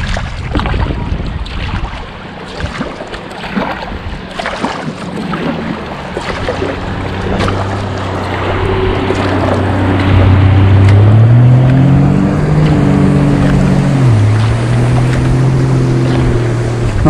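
A motorized flat-bottomed boat passes on Lake Tisza, its engine drone rising and shifting pitch as it nears, loud and steady over wind and lapping water.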